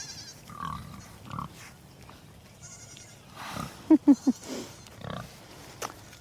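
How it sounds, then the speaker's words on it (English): Pigs and goats chasing someone on a farm grunt and bleat in a few short, close calls clustered together, with quieter animal noises and rustling around them. "Goats chasing me. Oh, pigs chasing me."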